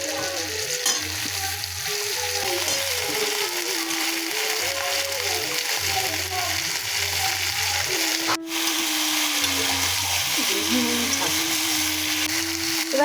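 Eggplant pieces fry in hot oil for a silver carp fish curry with potato, a steady close sizzle running throughout with stirring scrapes and a brief sharp clatter midway, no talking.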